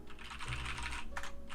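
Computer keyboard keys clatter in fast bursts during a typing test, close and clear, with a short pause before a final few key presses.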